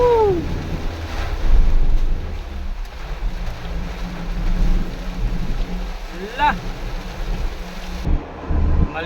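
Heavy rain pounds a car on the Skyway, a steady broadband wash with wind-like roar throughout, and a voice briefly speaks.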